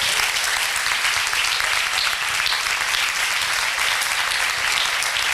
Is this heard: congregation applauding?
yes